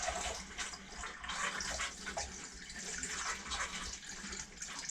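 Liquid pours down a sink drain during RV plumbing winterizing, a steady gurgling, splashing flow that runs unbroken at close range.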